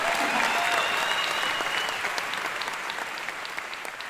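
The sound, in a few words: audience applause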